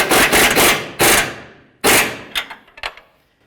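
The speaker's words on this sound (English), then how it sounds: "I've got my 21 wrench on the nuts on the top" A 21mm wrench working the upper nuts on a 2007–13 Nissan Altima lower control arm gives bursts of rapid ratcheting clicks, close and loud, then several sharp separate metallic ticks as the bolts bottom out.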